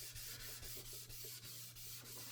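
Dry paper with a textured finish is rubbed and buffed by hand, much like polishing shoes, giving a soft, steady scrubbing sound in repeated even strokes, close and quiet, with no voices.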